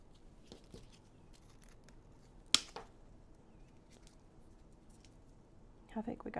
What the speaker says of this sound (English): I just was trimming this in order to give it a little length